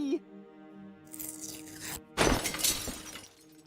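A bird crashes into a stained glass window in the video game Deponia Doomsday: a bright shattering burst of breaking glass with scattered tinkling debris, following a brief musical tone and voice.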